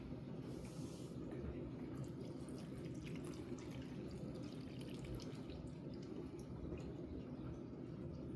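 Cold water pouring steadily into a container while making sourdough dough, a continuous close splashing trickle with faint dripping and no talk.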